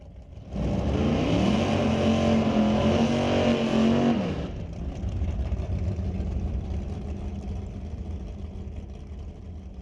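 A hot rod drag car lines up at Mission Raceway Park, idling loudly, then revs hard with a rising engine pitch before dropping back to a rumbling idle, with no one talking.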